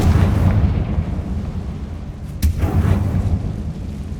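Confringo blast spell explosion in Hogwarts Legacy: a sharp crack followed by a booming burst partway through, loud and close, set against a heavy rumbling background.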